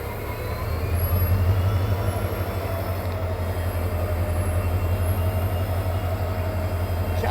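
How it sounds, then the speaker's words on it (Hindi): Diesel locomotive hauling the Rajdhani Express as it departs from the station, a steady, loud low rumble with a faint squeal of the wheels and no talking. "क्या अलग ही साउंड होता है भाई साहब डीजल लोकोमोटिव का।"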